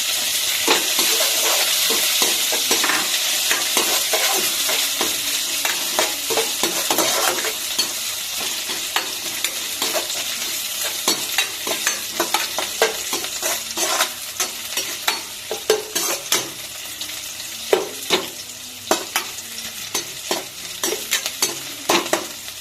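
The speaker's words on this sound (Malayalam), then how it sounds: "വെളുത്തുള്ളി ഒന്ന് എണ്ണയിൽ ഫ്രൈ ആയതിനു ശേഷം നമുക്ക് ഇഞ്ചി, പച്ചമുളക്, ലേശം മല്ലിയിലുണ്ട്." Garlic, ginger and green chili fry in hot oil as a steady close sizzle and hiss, while a spoon stirs through the pan with scattered scrapes and clinks that grow more frequent toward the end.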